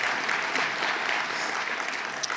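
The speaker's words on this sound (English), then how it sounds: "Yes, you can clap." A roomful of breakfast guests at a lecture series event claps in a steady, dense wash of applause, moderately loud and continuous throughout.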